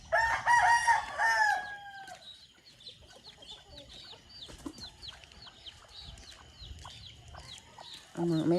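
Rooster crows loudly and close at the start, then softer chicken clucks and scattered calls carry on in a quiet rural yard before another crow begins at the end.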